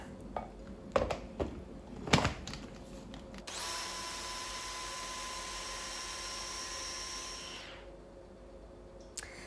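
A food processor whirs steadily for several seconds as it purees grated carrots with orange for a sugar-free cake batter, after a few clattering knocks and before the motor winds down.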